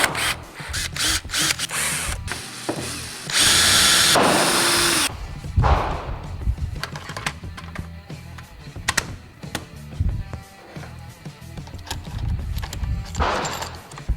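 A power drill driver tightens screws into a plastic 10/22 PS90 conversion kit at a low torque setting, giving several short bursts of whirring interspersed with clicks and handling knocks, close by and fairly loud.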